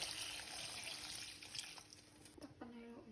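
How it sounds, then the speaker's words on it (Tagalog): Water is poured into a pot of chicken stew, a steady faint stream of liquid heard up close, with a low hum in the background. "pwede na tayo maglagay ng tubig"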